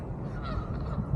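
A gaggle of geese honks outdoors during a walk, faint and somewhat distant over a low rumble of background noise.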